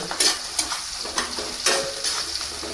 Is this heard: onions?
yes